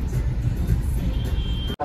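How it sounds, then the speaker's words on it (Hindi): Congested road traffic rumbles loudly and steadily close by, a dense low roar of engines that cuts off abruptly at the end. "ऊपर से ट्रैफिक लगा हुआ है यहाँ पे।"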